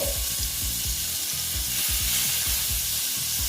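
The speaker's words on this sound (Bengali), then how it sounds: "আমার পটলগুলো ভাজা হয়ে গেছে বেশ এইরকম করে ভাজলেই হবে" Pointed gourd sizzles continuously in hot oil, with a low rhythmic thumping underneath and no voices.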